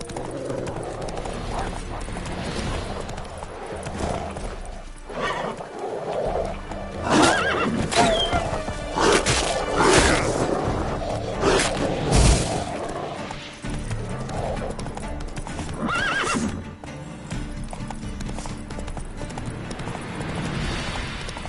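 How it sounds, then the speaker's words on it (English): Horse neighing and whinnying with clip-clopping hooves in The Witcher 3 video game, loud and close over game music and ambience, with a voice speaking at times. "Whoa there, Roach."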